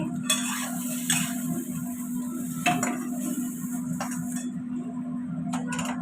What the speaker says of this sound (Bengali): কড়া বসিয়ে দিলাম